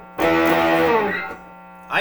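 A Donner DST-550 electric guitar with its humbucker split and run through distortion rings out in a single loud, sustained chord that decays over about a second, then a brief sound at the end.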